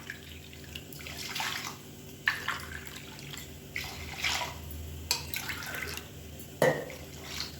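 Water is poured in bursts into varagu millet in a cooking pot, the gentle splashing and trickling repeating several times at close range, with no talk.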